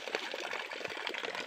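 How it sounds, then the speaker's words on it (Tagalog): Water from a natural spring in a river trickles and bubbles in a faint, continuous, close babble for a moment. "Meron dito mga kabayan bukal."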